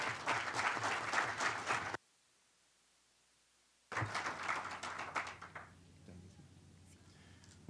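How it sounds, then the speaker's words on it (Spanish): Audience applause at an evening conference on Latin America, a loud burst of clapping that stops abruptly, then resumes and gradually fades as talking comes in. "Démosle un fuerte aplauso a nuestro experto"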